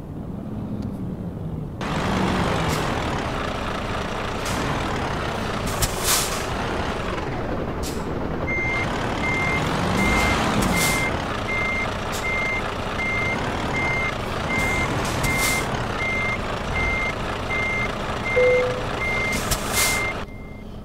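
In Euro Truck Simulator 2, a truck reverses to couple with a trailer, a loud diesel rumble under steady, regular reversing beeps that begin partway through and continue to the end.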